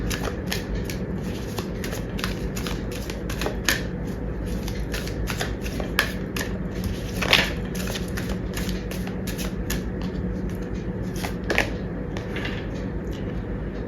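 Tarot cards being shuffled and drawn from a deck, producing a steady run of close, crisp riffling flicks and slaps with a few sharper snaps, moderately loud and continuous with no talking.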